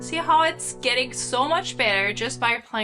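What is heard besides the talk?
No everyday noise stands out behind the speech.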